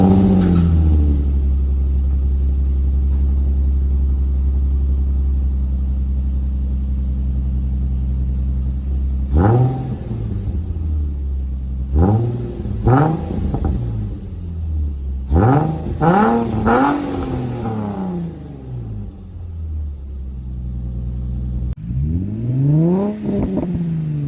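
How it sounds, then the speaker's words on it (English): A Nissan 350Z with an Invidia Gemini exhaust idles with a deep, loud rumble, then revs sharply in a series of rising and falling blips, some quick and clustered, before settling and revving once more. "So first is the Invidia Gemini exhaust."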